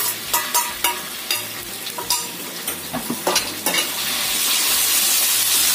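Chicken meat stir-fried in a pan with shallot and garlic over high heat: repeated sharp scrapes and clacks of a utensil against the pan over a steady sizzle, which swells into a louder, continuous frying hiss toward the end.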